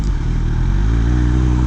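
A 2018 Kawasaki Ninja 1000 with a Black Widow exhaust accelerating, a loud, close, steady engine drone with a rising note over a short burst.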